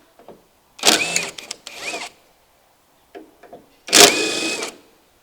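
A cordless driver with a Torx bit backs out two tailgate bolts on a 2022-on Ford Ranger, several short close whirring bursts with pitch sweeps, separated by quiet gaps and small clicks.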